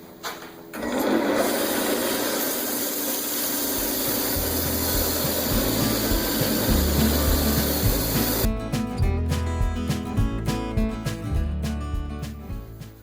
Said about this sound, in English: So we'll see what sanding does.